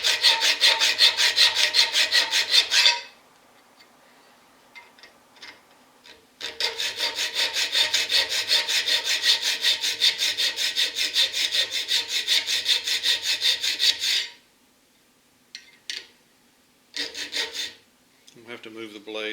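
A hand file rasps a rope pattern into a knife's spine, with long runs of steady back-and-forth scraping broken by short pauses and a few brief stroke bursts, close and loud.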